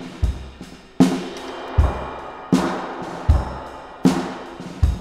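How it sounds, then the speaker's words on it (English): Vocal tracks run through Vincent and Space Echo delay effects, producing sharp bursts that repeat about every three-quarters of a second, each trailing off in a smeared, fading echo tail, with no talking. "I have 7 tracks of it going through Vincent's and Space Echoes, which sound like this."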